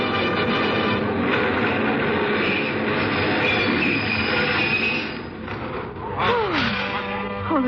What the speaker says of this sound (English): Oh, the train was in.